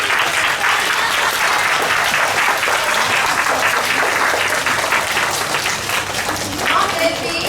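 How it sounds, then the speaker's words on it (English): An audience at a school assembly claps loudly for class 1A, a dense, sustained wash of applause from many hands that stays level before easing slightly near the end, with voices mixed in beneath it. "give a big round of applause for class 1A"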